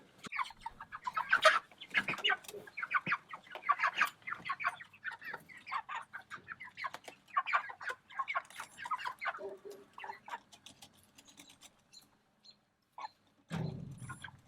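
Meat chicken hens cluck and chatter continuously at close range during weighing, overlapping in busy bursts, with a short louder low thump near the end.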